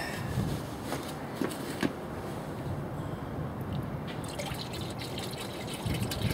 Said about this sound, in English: fairly clear amber fluid pouring off the top of my last sludge container